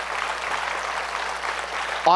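An audience gives a last round of applause after a Shiva Parvati Vivaha presentation at CMLA Sevanjali, a steady, even clapping wash that holds throughout, joined at the very end by a voice starting to speak.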